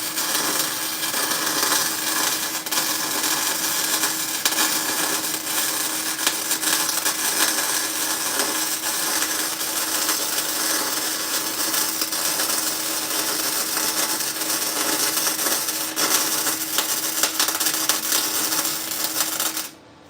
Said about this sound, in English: I'm going to finish this weld anyway.